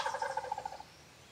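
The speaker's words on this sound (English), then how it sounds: "Turkeys gobble a lot off the roost." Wild turkey gobbling from its roost, a single rapid rattling gobble of quick pulsing notes lasting under a second, faint and distant, then quiet.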